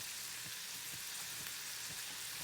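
Butter sizzles and fries in a brand new, freshly seasoned black steel pan, a steady soft crackling hiss with faint pops, heard alone without talk.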